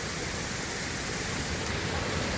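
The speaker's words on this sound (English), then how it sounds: "here's the first of the waterfalls." A waterfall in snowy, slippery outdoor nature, heard as a steady, dense wash of rushing water, loud and continuous and filling the whole brief stretch, with no talk.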